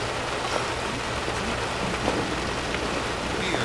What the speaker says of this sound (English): No need to stand out in the rain.